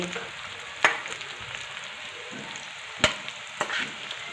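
Kothimbir vadi, crisp coriander fritters, frying in hot oil with a soft continuous sizzle and a few sharp pops and clinks from a utensil, fairly quiet and close.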